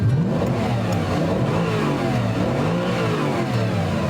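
A sports car engine in a racing video game revs and accelerates hard, a loud continuous mid-pitched roar climbing through the gears with no talk over it.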